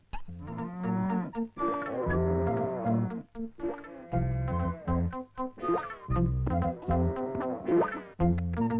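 A cow moos repeatedly in long, loud, drawn-out calls close by, with brief pauses between each bellow and nothing else competing.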